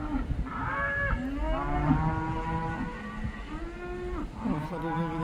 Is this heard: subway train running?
no